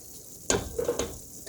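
Onions and vegetables frying in oil in a pan for a chicken mirepoix dish, a low steady sizzle broken by two sharp stirring scrapes and a soft rustle, close and alone.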